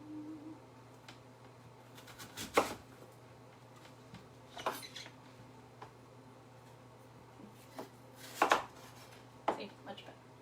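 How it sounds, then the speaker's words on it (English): A kitchen knife cuts an apple in half on a cutting board, sending out a few sharp knocks and clacks of the blade hitting wood at irregular intervals over a quiet room hum. "Just because that creates a little more stability to cut the apple in half, instead of trying to cut something that's round and rocking."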